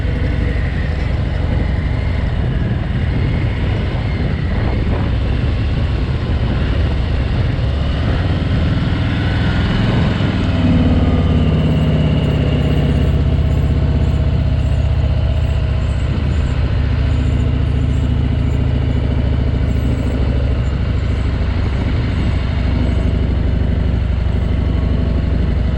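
A motorcycle engine runs continuously on a riding course, with the rider working around tight circles; a steady, loud low rumble rises and falls slightly with throttle, and there is no talk.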